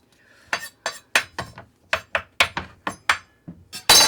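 A kitchen knife chops onions in a country kitchen, a dozen or so crisp, separate chops in an uneven rhythm, each striking the board close up in otherwise quiet surroundings.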